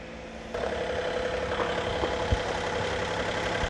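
A Kubota 4105 tractor engine runs steadily nearby, a continuous mid-low hum and drone that swells after a brief quieter start and then holds, without speech.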